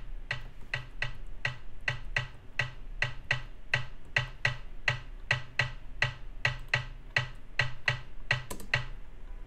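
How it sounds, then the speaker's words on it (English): Rim shot percussion pattern programmed in FL Studio for an Afrobeat drum rack: a steady train of crisp, evenly spaced clicky hits, about two per second, repeating near and alone over a low thumping pulse. "the first percussion sound that I want to start with is a rim shot"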